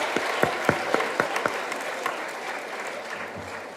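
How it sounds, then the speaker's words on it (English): Audience applause for essay winners at an anti-bullying event, a few sharp early claps then a moderate, thinning round of clapping from a distance. "Give a big round of applause for the winners."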